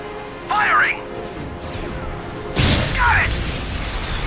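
Ion cannons firing in the Ratchet & Clank: A Crack in Time video game, heard as two loud, heavy blasts a couple of seconds apart over a steady electronic hum, with a voice talking between them.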